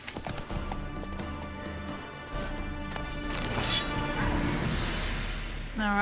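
Horses galloping in the video game The Witcher 3, rapid rhythmic clip-clop hoofbeats under a game soundtrack and ambient effects, fairly close and steady.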